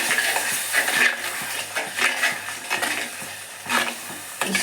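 Masala for Mangalorean-style crab sukka fries in hot oil, a steady sizzle punctuated by a spoon repeatedly scraping and clinking against the metal pan as it is stirred up close.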